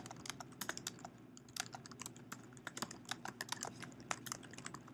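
Fast, irregular clicking of a computer keyboard as a command is typed into a bash terminal, quiet and close with no voices.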